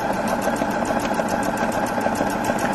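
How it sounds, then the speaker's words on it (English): A sewing machine runs steadily while stitching free motion embroidery on fabric held in a hoop, moving up and back across the design, a close, continuous motor hum with a rapid needle chatter. "You see I'm stitching all the way up and all the way back for a very smooth effect."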